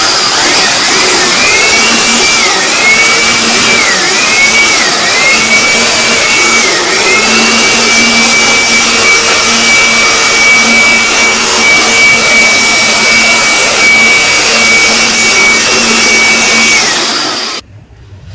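An electric air blower runs continuously while cleaning a Ricoh SP111 printer, a loud, steady whirring roar with slight pitch wavers, cutting off abruptly at the end.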